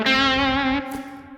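A single sustained note on cheap electric guitar gear, bathed in reverb, rings out strongly and then decays into a soft reverberant tail. It is close, clear and solo.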